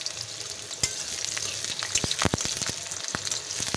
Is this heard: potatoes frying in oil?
yes